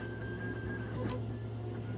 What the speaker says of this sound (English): So it finished a job, and now it's printing out the next one.